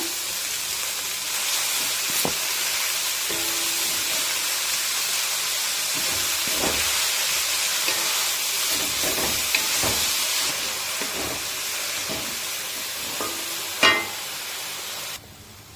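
Leafy greens hit a hot pan for a home-style palya, hissing and sizzling continuously while a spatula scrapes and knocks against the pan every few seconds.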